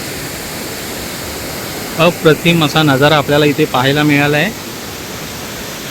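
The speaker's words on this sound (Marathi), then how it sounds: "प्रचंड असा आवाज येतो या धबधब्याचा." Dhutpapeshwar waterfall beside the temple near Rajapur pours with a steady, broadband roar that fills the whole stretch, while someone speaks over it for a few seconds in the middle.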